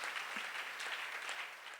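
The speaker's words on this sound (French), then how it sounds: "Merci Fabrice Sorouette, je crois qu'on peut l'applaudir et le saluer." Audience applause at a participatory democracy forum in Bayonne, a steady dense patter of clapping hands holding at an even level throughout, with no voices over it.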